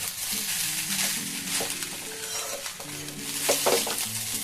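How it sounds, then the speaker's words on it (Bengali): A spoon stirs ingredients, including powdered sugar, in a pan over a low flame while making jeera rice; soft scraping strokes and a faint sizzle sound close by, with no talk. "একদম লো ফ্লেমে এগুলোকে মিশিয়ে নিতে হবে"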